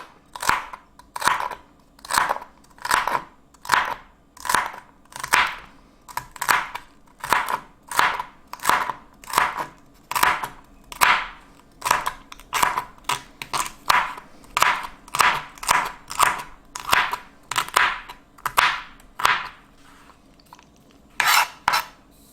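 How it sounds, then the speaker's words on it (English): A knife dices celery on a cutting board in a steady run of crisp chops, roughly one or two per second for over twenty seconds, each a sharp crunchy knock, close up with no voices. "there's the beginning of my diced celery, and now let's cut the rest of it"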